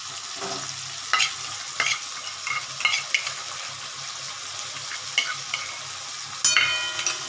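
A ground spice paste stirs and sizzles in a frying pan, with repeated scrapes and soft clinks of the utensil against the pan over a steady background fry.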